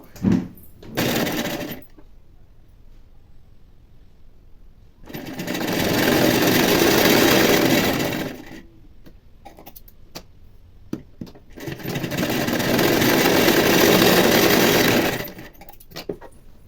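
A sewing machine stitches a plain blouse, joining the front part in short bursts followed by two longer runs of several seconds each, close and loud with quiet gaps between.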